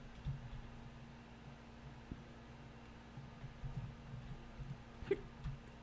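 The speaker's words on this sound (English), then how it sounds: "I have hiccups." Several hiccups come in short, soft bursts over a faint, steady hum, with one sharper, louder hiccup near the end.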